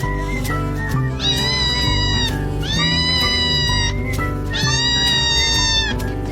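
An unhappy tiny ginger kitten meows three times, loud and close, each cry long and drawn out, with short pauses between them.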